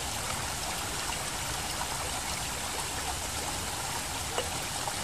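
Water poured from a tap or bottle into a protein shaker holding a scoop of hemp protein powder, a steady close-up stream with a continuous splashing trickle throughout.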